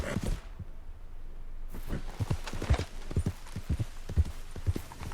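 Horse hooves clip-clop at the stables in Red Dead Redemption 2, a steady run of close, clear hoofbeats following a brief rustle at the start, with no voices.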